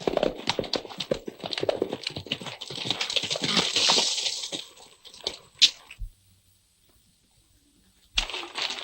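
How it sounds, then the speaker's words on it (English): Hooves clip-clop in a brisk, irregular rhythm, close and fairly loud, then fade into a brief near-silence before the clatter resumes. "3 horses over there, and they're saddled, too."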